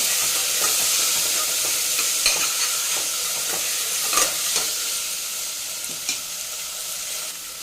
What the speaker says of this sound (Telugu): ఈ వెజిటేబుల్స్ అన్ని దీనికి కొద్దిగా ఫ్రోజన్వి మటర్ కూడా యాడ్ చేసుకున్నానండి మిక్స్ చేద్దాం